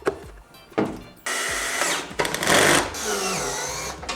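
A power tool drives a new screw while a headlight is installed on a Toyota Yaris, giving several short whirring bursts of the driver separated by pauses and clicks, close and fairly loud, with no talking.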